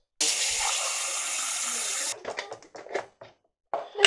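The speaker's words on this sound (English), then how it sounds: "Pour the Tang." Tang drink poured into a cup, a steady liquid pour lasting about two seconds, followed by brief splashes and trickling sounds; voices are not evident over it.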